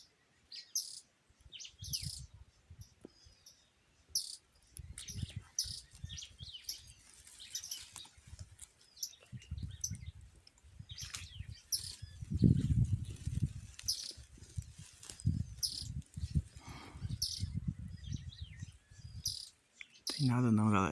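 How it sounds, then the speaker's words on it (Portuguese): Songbirds sing outdoors, among them a red-cowled cardinal (galo de campina), with scattered bright chirps and short phrases over low rustling and handling noise. "Cantando várias goladinhas. Galo de Campina."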